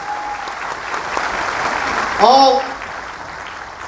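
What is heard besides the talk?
audience applause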